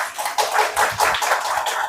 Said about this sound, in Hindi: एक बार सभी ताली बजाएंगे